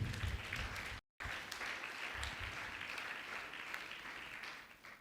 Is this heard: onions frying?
no